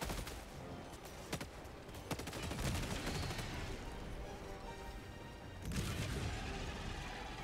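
A space shotgun in Helldivers 2 fires several heavy, booming blasts amid dense combat noise, crashes and clattering mechanisms during a hatchery purge mission.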